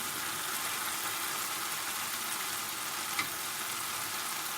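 Base gravy for a jalfrezi curry hits a hot, oily pan and sizzles loudly and evenly close up, with one brief scrape of stirring near the end and no voices.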